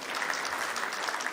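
Steady audience applause at a FANAF 2019 insurance conference, a dense, even wash of many hands clapping at moderate distance, continuous throughout with no voices standing out.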